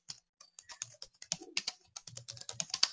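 Code being typed on a computer keyboard, a close run of quick, uneven key clicks in short bursts with brief pauses, growing denser toward the end, with no talk.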